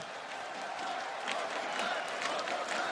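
Large esports arena crowd at a CS:GO quarterfinal cheering and applauding for NIP, a continuous roaring wash of clapping and shouting from many people, steady and distant-sounding throughout.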